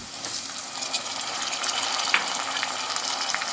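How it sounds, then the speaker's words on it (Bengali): Chopped tomato and onion frying together in a pan for paneer bhuna masala, a loud, steady close-up sizzle with a bubbling, watery hiss throughout. "টমেটোটাও এবার আমি পেঁয়াজের সঙ্গে ভেজে নেব।"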